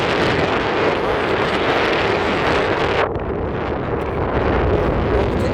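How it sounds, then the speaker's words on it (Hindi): Strong wind roars steadily across the microphone on a hilltop fort surrounded by distant hills, a dense, loud buffeting that dips briefly about halfway through before surging again. "यहाँ पे बहुत तेज़ हवा चल रही है, बहुत तेज़।"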